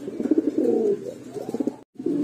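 A pair of big Shoking-breed pigeons coo up close in low, throaty bursts, with a short pause before the cooing resumes.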